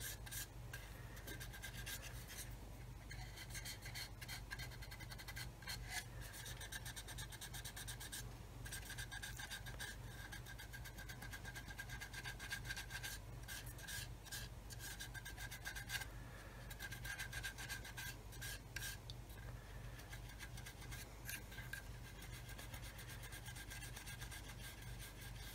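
Tamiya abrasive rubbed against a part of an Airfix 1/32 Humber scale model, giving a steady, continuous close-up rasping scrape with small rhythmic strokes throughout, alone without speech.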